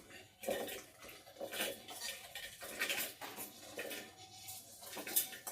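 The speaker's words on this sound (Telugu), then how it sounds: "నేను ఇప్పుడు మిక్సీ జార్లో వేసేస్తున్నాను" Cooled coconut chutney ingredients tipped into a steel mixer jar, giving a run of close, uneven metallic clinks and scrapes of utensils against the jar with no talking.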